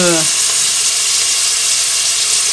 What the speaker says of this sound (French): Donc on va faire suer ce mélange